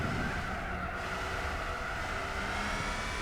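Race car engines drone steadily in Gran Turismo 4 as a Mercedes runs alongside a Pagani, a continuous loud engine tone with faint tire noise and no talk.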